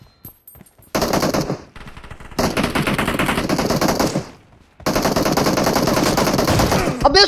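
Bursts of automatic gunfire from a team deathmatch in PUBG Mobile, loud rapid rattling volleys in long runs separated by short pauses, with faint game noises before the first burst.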